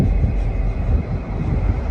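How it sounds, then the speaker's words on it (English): A departing train gives off a loud, steady low rumble that carries without a break and with no talking, at a rural stop on a road trip from NSW to Melbourne. "the train's about to take off"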